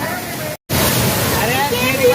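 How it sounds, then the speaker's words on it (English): Bhavli waterfall near Igatpuri, a loud, dense roar of falling water heard close up, broken by a brief dropout, with voices faint underneath. "Came here to the waterfall."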